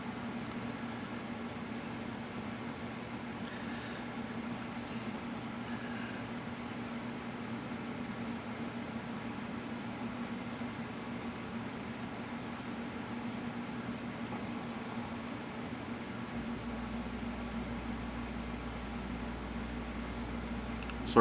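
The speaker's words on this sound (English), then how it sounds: "Air conditioner, fan, all that." An air conditioner and a fan run together in a hot room, giving a steady, low, even hum and whoosh with no other sounds.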